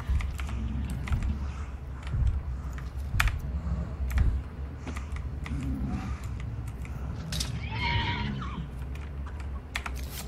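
A horse whinnies in a rising and falling call in the video game Hunt Showdown, heard mid-distance amid sharp clicking game sounds and keyboard taps.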